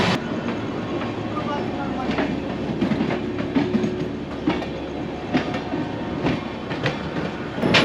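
The Doon Express (13009) rumbles into Pandit Deen Dayal Upadhyay Junction, heard from on board, with steady clickety-clack of wheels over rail joints and a constant close rolling noise.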